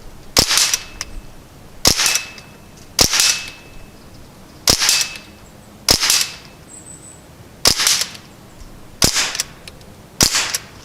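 An Umarex Ruger 10/22 air rifle fires eight sharp, evenly spaced shots at a metal target, several followed by a brief ringing clang from the hit.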